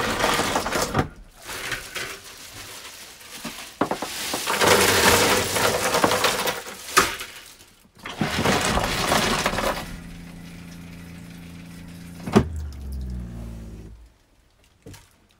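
Ice cubes poured down an RV toilet into the black water tank clatter and rattle in long loud bursts with gaps, ending in a sharp clunk and quieter trickling, no talk.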